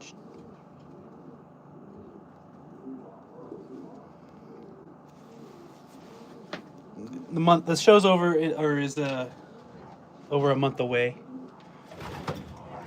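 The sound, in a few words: racing pigeons cooing in a breeder stall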